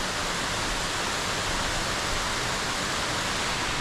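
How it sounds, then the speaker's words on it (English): Heavy rain pouring on Kauai, a dense, steady hiss of water that stays loud and even throughout with no voices. "This is Kaua'i rain."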